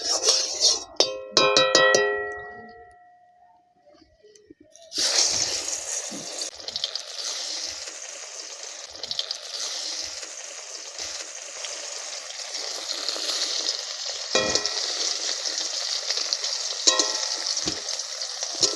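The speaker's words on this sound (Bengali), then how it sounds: "কড়া গরম হয়ে গেছে, সর্ষের তেল দিচ্ছি ভাজার জন্যে।" Mustard oil going into a hot wok: a few metallic clinks and a soft pour, a brief quiet gap, then a sudden bright crackling sizzle that holds steady and close, with occasional spoon taps.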